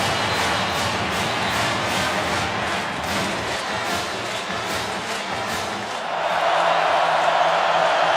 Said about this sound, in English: No whistles. Only cheering.